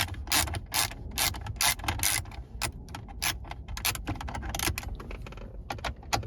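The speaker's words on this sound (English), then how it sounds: "after we get all these bolts loose, we're gonna pull the radio out" A ratchet clicks in rapid bursts while loosening bolts holding a Uconnect 8.4 radio in a Dodge, Jeep, Ram or Chrysler dashboard, close and crisp with short pauses between strokes, no speech.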